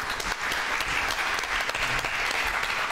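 Studio audience applauding steadily at a televised pantomime game show, a dense, even wash of clapping that holds for the full stretch with no voices over it.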